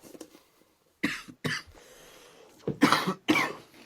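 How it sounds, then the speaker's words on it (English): Several harsh coughs from one person up close, a short burst near the start and a second heavier pair of coughs toward the end, with quiet gaps between. "Sorry, coughing."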